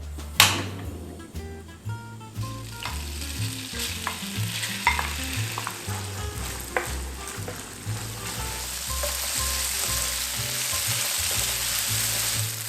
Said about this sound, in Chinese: 我们准备一个锅子，倒入一点橄榄油，然后把我们的豆腐煸到金黄酥脆